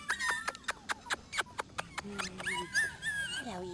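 Young Brittany puppies whimper and yip in quick, close, high-pitched cries, followed by a few longer whining calls, with faint background noise.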